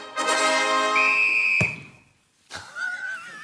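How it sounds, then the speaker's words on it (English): A football is kicked with a whistle: a sustained, shrill whistle tone gives way to one sharp, close thud, then a quieter wavering tone follows after a short pause, with no talk. "That's the sound of a football being kicked."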